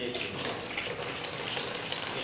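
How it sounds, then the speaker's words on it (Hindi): Water flows steadily from a Shreeji water dispenser pump in a continuous, even, close-up stream with no talking. "देखिए पानी आना चालू हो गया।"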